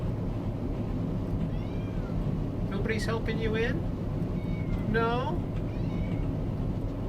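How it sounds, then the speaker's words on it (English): A friendly neighborhood cat meows twice close by, with clear rising and falling calls, while someone talks over a steady low background hum. "Sorry, I got a stray cat here."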